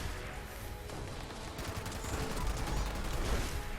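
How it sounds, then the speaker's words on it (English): A .50 cal machine gun (Bloodied Rapid Prime) fires in the post-apocalyptic game Fallout 76 during a fight against the Scorchbeast Queen, a dense, continuous rattle of rapid shots that swells slightly louder toward the end. "firing a 50 cal"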